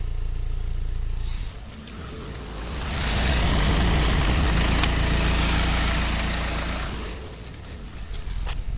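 A Renault Espace IV car engine runs at idle, a steady low rumble that swells louder for several seconds in the middle before settling back, heard close with no talking.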